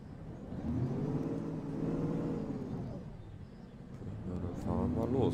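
Bus engine in the OMSI 2 driving simulator pulling away through a Czech route, a steady mid-pitched drone that rises and swells as it accelerates, with people talking over it.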